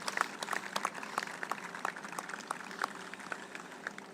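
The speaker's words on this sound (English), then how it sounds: "So let's give them a round of applause." A crowd at a regional sports complex celebration claps in a round of applause, a quick, fairly distant patter of hands that rises and eases over a few seconds.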